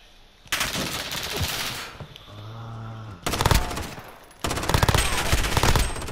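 Rapid automatic gunfire from Call of Duty Modern Warfare in an Alpha 2v2 match, loud close bursts of sustained spraying fire broken by a short lull with a low humming tone, players talking over it.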